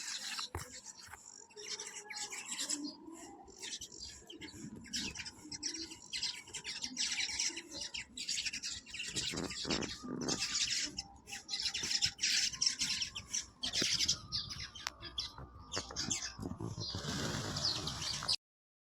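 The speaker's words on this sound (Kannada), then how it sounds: "ಗುಬ್ಬಚ್ಚಿ ಯಾವ ರೀತಿ ಸೌಂಡ್ ಮಾಡ್ತಾ ಇರ್ತಾವೆ." Sparrows chirp around a home, with a busy stream of short, overlapping tweets and calls, some close and some farther off, continuing steadily for about twenty seconds with no talking.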